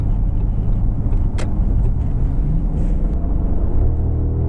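A high-mileage Audi S8, around 300,000 km, rumbles with a steady low engine growl while driving on the road, a continuous near drone with a brief higher whoosh partway through and no talking.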